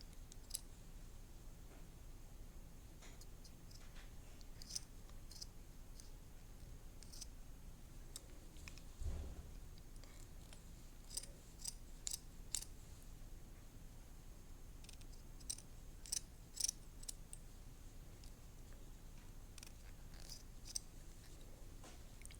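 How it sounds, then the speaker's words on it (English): Scissors cut paper for a shark craft, heard as faint, scattered snips and clicks spaced irregularly over a quiet background. "And then we'll just cut off what's extra that we don't need."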